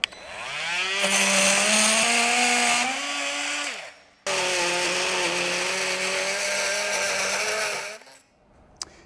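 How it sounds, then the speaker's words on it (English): An oscillating multi-tool fitted with a Starlock metal-cutting blade cuts through metal in two loud, sustained buzzing passes with a steady high whine, separated by a brief pause and ending abruptly. "So for cutting metal, we've fitted a metal cutting Starlock blade."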